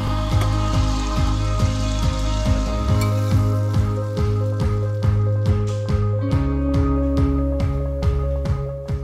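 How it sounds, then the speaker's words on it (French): Apples cook in walnut oil with chopped ginger, turmeric and a little water, giving a loud, close, steady sizzle and crackle with a regular pattern of small pops throughout. "je fais revenir sans coloration les pommes avec l'huile de noix, le gingembre haché, le curcuma et un peu d'eau"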